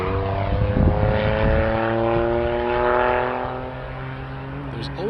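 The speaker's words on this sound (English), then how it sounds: "There's always somebody with a really, really loud motorcycle." A really loud motorcycle roars past with a strong, harmonic engine drone that swells twice as it goes by, then eases off as it moves away.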